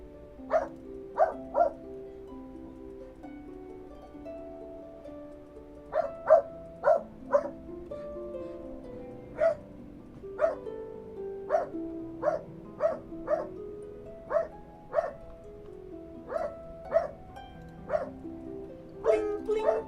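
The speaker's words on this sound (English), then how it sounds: "The dog is noisy, man." A dog barks in quick clusters of two or three sharp yaps, then keeps going in irregular bursts over about twenty seconds, fairly close and loud above a low background hum, with no talking.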